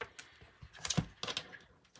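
A tarot card deck being shuffled by hand, a few quick riffling bursts of cards slapping together at close range, with brief pauses between, no talking.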